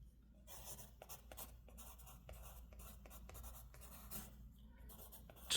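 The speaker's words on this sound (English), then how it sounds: "I'm going to use my pencil." A pencil sketches on watercolor paper, faint scratchy strokes coming in short, rhythmic bursts with brief pauses, close and quiet with no talking.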